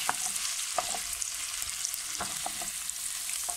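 Oil frying in a pan for couscous, a close, steady hiss of sizzling with a few short crackles and stirring taps, no voices.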